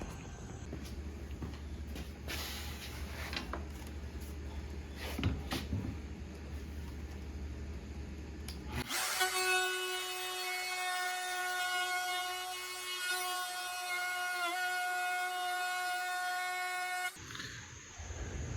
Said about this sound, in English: I need to route these 4 dados